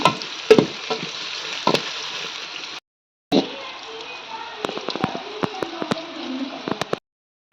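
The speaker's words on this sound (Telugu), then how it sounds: "మటన్ బిర్యానీ కోసం ఫ్రైడ్ ఆనియన్స్ వేయించుకున్నాం" Onions fry in hot oil for mutton dum biryani over a wood-fired stove, a continuous sizzle with sharp crackles and pops and occasional stirring clatter, broken by two brief silent gaps.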